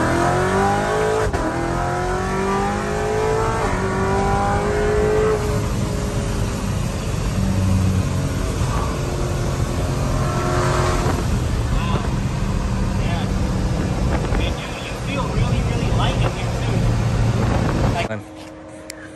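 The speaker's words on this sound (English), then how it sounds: "So you just saw some crazy, insane pulls of the 2017 C7 Procharged Corvette." A supercharged 2017 C7 Corvette makes hard, sustained full-throttle pulls with steady engine roar and paddle shifts. Loud and continuous for about eighteen seconds, then it cuts off abruptly. Voices talk over it.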